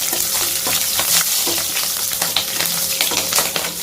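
Chillies sauté in hot oil for a dried fish curry, a dense continuous sizzle broken by repeated scraping stirs of a spoon in the pan, close and fairly loud.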